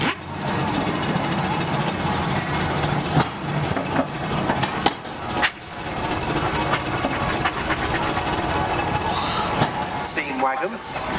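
A steam roller engine drives past at a steam fair on the Isle of Wight, a steady mechanical chuffing and rumble heard close and continuous, with a commentator talking over it.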